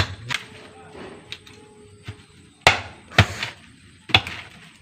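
Several sharp, hard knocks strike at irregular intervals, close and loud, as a coconut is hit to crack it open, with quiet background murmur between.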